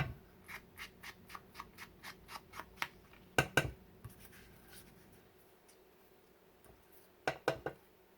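Paper card edges being distressed, a quick run of regular scratchy strokes, then a pair of louder scrapes and later three more, close and crisp against a quiet room.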